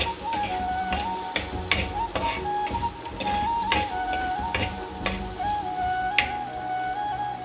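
Coriander and red chili powder sizzle steadily in a hot pan for fish curry, a constant close frying hiss with small scattered crackles and stirring clinks throughout.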